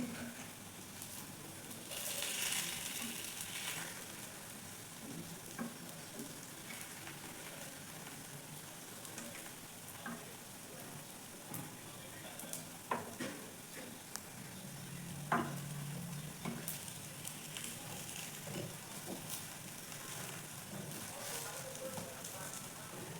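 Appe made from bottle gourd batter sizzle softly in an appe pan, a steady low crackle with occasional small pops and utensil clicks, fairly quiet and close throughout.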